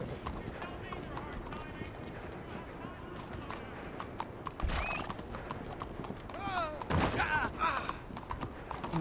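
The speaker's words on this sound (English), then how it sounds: "here comes your horse, Buckshot. And here comes my horse as well" Horse hooves clip-clop steadily in a Western video game, with horses whinnying and neighing over the hoofbeats and distant gunfire in the background; a person talks over the sounds.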